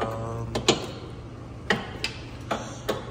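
Sharp metallic clicks of a wrench ratcheting on bolts while fitting an angle kit to a BMW E36/E46, spaced irregularly over a steady low background hum, close and fairly quiet.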